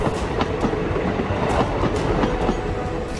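A passenger DEMU train runs along the rails between Dumka and Bhagalpur, with steady loud rumble and repeated clickety-clack wheel beats over the track joints, close and without voices.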